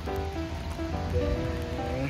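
Steady rain falls on a day trip in Shiga Prefecture, Japan, a constant soft hiss with no speech over it.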